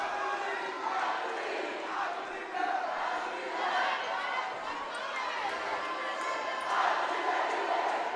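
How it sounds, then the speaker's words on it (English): A crowd of Mustang and Rowe fans cheers at a high school volleyball match between Rowe HS and Memorial HS in the gym, a steady roar of voices throughout that swells near the end. "Spirited crowd here tonight."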